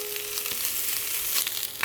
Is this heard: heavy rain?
no